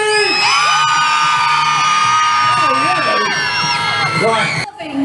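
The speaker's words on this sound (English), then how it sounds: "So can we start with a bit of screaming?" At a Christmas lights switch-on in Wolverhampton, a large crowd screams, whoops and cheers loudly and continuously for about four seconds before the noise suddenly cuts off.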